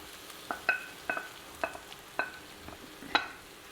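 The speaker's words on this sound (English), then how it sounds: "Now let's just fry this all through." Garlic and mushrooms cooking in a pan, heard as a string of light metallic scrapes and clinks from stirring, about eight sharp taps spread over a few seconds, fairly quiet and close, with no voices.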